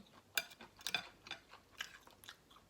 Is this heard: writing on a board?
no